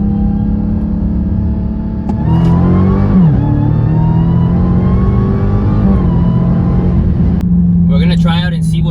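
A 2021 Dodge Charger Hellcat Widebody Redeye pulls hard from a 40 mph roll in second gear, its loud steady engine drone heard from inside the car, pitch climbing and settling, with a short shift-like dip along the way.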